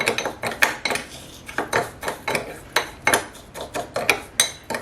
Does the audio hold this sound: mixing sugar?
yes